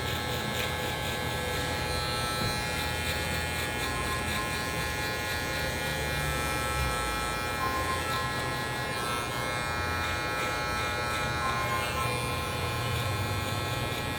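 Electric hair clippers cut a bald guideline at the nape during a dreadlock haircut, producing a steady, close, continuous buzzing hum that stays even throughout without pause.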